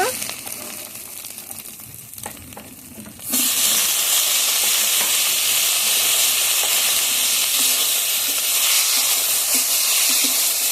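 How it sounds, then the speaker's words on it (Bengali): Chopped tomato hits hot oil with fried onion, ginger and garlic, a loud broad sizzle erupting after a few seconds of quieter kitchen noise and staying steady, with faint stirring scrapes. "পেঁয়াজ আদা রসুন ভালোভাবে ভেজে নিয়েছি এখন কেটে রাখা টমেটো দিয়ে দেব"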